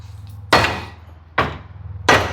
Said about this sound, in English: I'll give her a couple of love taps with the soft blow hammer there